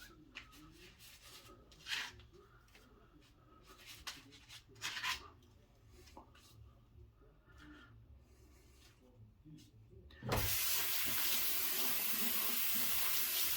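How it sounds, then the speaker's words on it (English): Tap water runs into a sink while a shaving soap tub is washed, first as faint intermittent splashes and rubbing, then a loud steady close stream of faucet water for the final few seconds. "I'm just washing the top of my tub."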